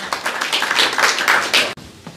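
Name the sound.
audience applause welcoming a poet at a mushaira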